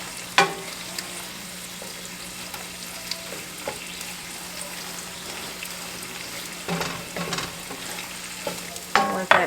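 Hominy scrambled eggs cook slowly in a pan, a soft steady sizzle underneath occasional scraping stirs and clinks of a utensil against the pan, close by.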